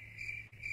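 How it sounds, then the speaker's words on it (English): Real crickets chirp in a steady, close, continuous trill with a brief dip midway, loud and alone without any talk. "You're suddenly making crickets."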